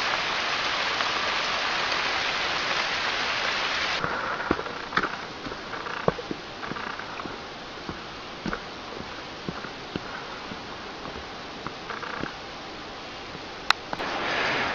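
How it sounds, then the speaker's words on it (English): Heavy rain pours down outside a small bamboo hut sheltering a group around a fire, a dense continuous hiss with scattered closer drips and taps throughout. "it's pissing down outside, so we've all sheltered in this little bamboo hut"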